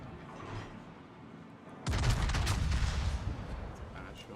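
Warship naval guns fire in the World of Warships video game as a sudden heavy boom that rolls into a sustained rumbling salvo, loud and full after a quieter stretch of background noise.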